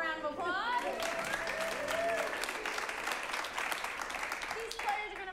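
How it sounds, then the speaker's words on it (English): An improv comedy show audience breaks into sustained applause and cheering, with a host's voice talking over the start before the crowd's clapping carries on at a moderate, slightly distant level. "Let's give them a round of applause."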